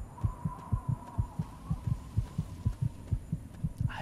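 A fast, regular heartbeat from the Fallout 3 video game, with double-thump pulses beating close and clear over a faint steady hum and no talking.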